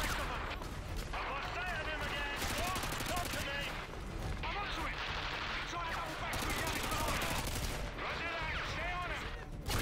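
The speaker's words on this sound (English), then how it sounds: "Are you shooting me?" Modern Warfare 2 video game combat in a favela, with dense, continuous gunfire and rapid bursts that stay loud throughout, layered with game sounds and voices.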